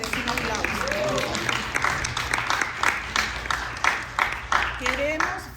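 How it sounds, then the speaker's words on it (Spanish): A church congregation claps together in a room, a moderately loud burst of applause with a voice speaking over it. "Yo creo que eso merece un aplauso"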